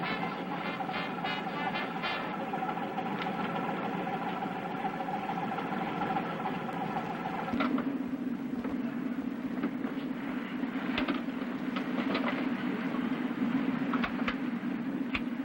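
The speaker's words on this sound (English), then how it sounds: "Quite a power plant down there. Diesel, huh?" Boat diesel engine runs steadily below deck, a continuous close drone whose tone shifts about halfway through to a lower, rougher hum, with faint clanks and no talking.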